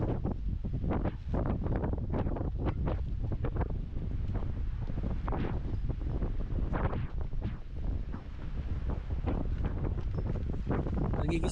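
Strong wind gusting across an overnight campsite at Malico, Pangasinan, buffeting the microphone with loud, continuous roaring and rumbling bursts throughout.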